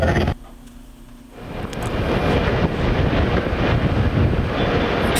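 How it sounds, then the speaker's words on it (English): A transit multiple unit train pulls out of a rail yard after a brief quiet moment, its broad rumble swelling and then holding loud and steady nearby. "Transit multiple unit train leaving the yard, heading down toward the subs on March the 3rd."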